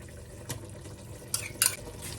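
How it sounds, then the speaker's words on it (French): Stirring a mafé meat sauce with added tomato paste in a pot, with a few soft scrapes and clinks of a utensil against the pot at irregular moments over a low steady background hum. "Je mélange bien."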